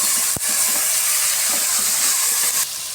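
Onions sauté in a hot pan for thalcha rice, giving a steady, loud sizzling hiss that continues throughout, with a single sharp clatter near the start.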